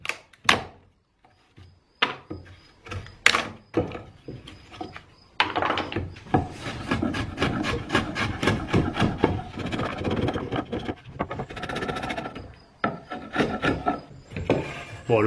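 A wood chisel pares and scrapes through a cut in a workbench timber, producing repeated close rasping strokes and knocks that build into steady scraping, with a few sharp taps at the start.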